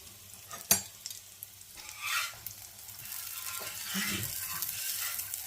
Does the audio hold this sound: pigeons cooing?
no